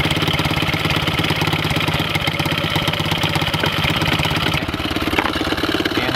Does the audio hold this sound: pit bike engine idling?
yes